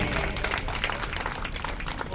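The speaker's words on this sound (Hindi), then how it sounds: "जोरदार तालियां उठे।" An audience at an award ceremony breaks into strong applause, a dense, loud wash of many hands clapping that carries steadily from start to finish.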